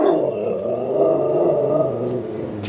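A dog growls low and steady close by, a continuous rumbling snarl lasting a few seconds with a faint sharp noise near the end.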